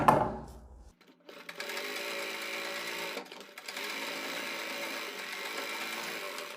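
A sewing machine runs in steady bursts while stitching piping fabric for a kurti boat neck, opening with a close clatter, then a pause, then a long even whir broken by a brief stop.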